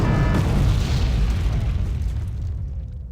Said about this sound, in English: Must have been a bigger artillery shell.